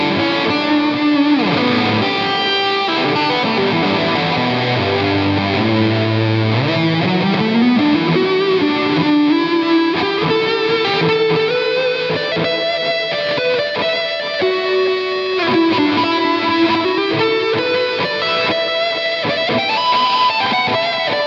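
A sustained, heavily distorted, cello-like electric guitar lead with long gliding notes through a ZVEX Instant Lo-Fi Junky pedal, washed in delay and reverb, playing alone and loud.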